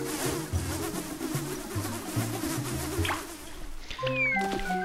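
Buzzing bees in the Wii Fit Plus Balance Bubble game, a steady insect drone over looping game music, followed by brighter chiming game tones near the end.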